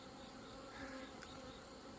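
Honeybees buzz at an apiary in a steady, continuous drone with a faint outdoor hum, with no voices.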